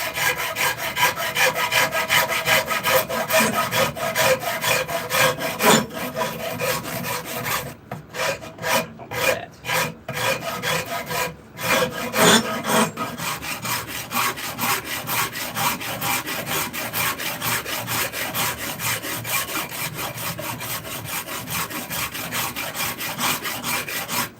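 Steady abrasive rasping and sanding strokes on an oak wooden spoon staff, continuous and close, with a few brief pauses midway and no talking.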